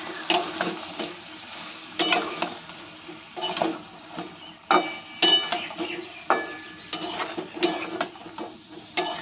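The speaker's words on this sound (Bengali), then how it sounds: "একটু হালকা করে কষিয়ে নেব" A tomato being lightly sautéed and stirred in a pan for a village-style green banana curry, with irregular close clatters and scrapes of the utensil against the pan and a faint background hiss.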